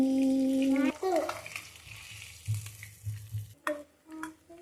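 Pieces of fish fry in hot oil in a street-style spicy recipe, a faint, steady sizzle broken by a few soft stirring and clattering sounds, with a brief higher tonal sound near the start.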